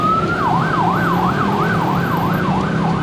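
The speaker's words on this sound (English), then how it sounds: "There goes an ambulance." An ambulance siren wails in a steady up-and-down cycle amid traffic on a street in Indonesia, loud and continuous over the low rumble of vehicles.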